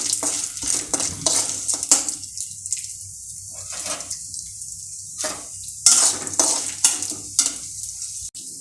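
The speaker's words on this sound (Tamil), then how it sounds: "இப்போது இதில் எண்ணெய் ஊற்றிருக்கேன். கொஞ்சம் நல்லா வறுக்கணும், செவக்க வறுக்கணும்." Toor dal roasting in a little oil in a pan, stirred in bursts: bright crackling sizzle with scraping strokes that come and go, alternating with quieter gaps, close and fairly loud, no talking.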